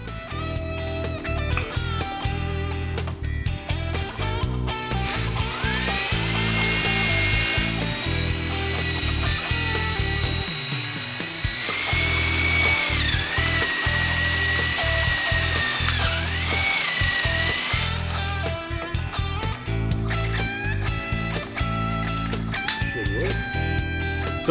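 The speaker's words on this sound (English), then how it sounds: "I'm gonna drill a hole in the frame right here and mount it there" A power drill whirs steadily, boring a hole into the metal frame of a Suzuki four-wheeler with a 750cc engine swap, holding a sustained high whine with pitch shifts as the bit bites, loud and close, with talk mixed in.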